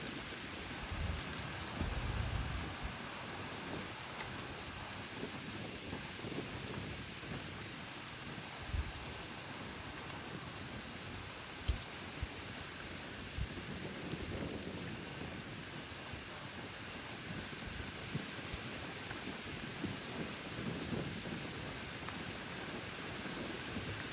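Wind gusting through fallen autumn leaves along a Vancouver route toward Jericho Beach, a steady broadband rustle and hiss with occasional louder gusts and scattered small knocks, continuous with no voices.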